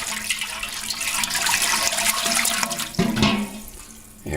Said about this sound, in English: I'm going to swirl this instead of stir it.